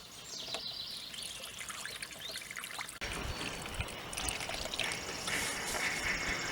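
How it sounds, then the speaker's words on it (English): Antifreeze 50-50 coolant mix pouring into a car's cooling system at the bleeder screw hole on a 3800 Series 2 engine, a steady close trickle and splash that grows fuller halfway through. "I'm going to go ahead and add antifreeze in until it starts leaking out the top of that hole where the bleeder screw was"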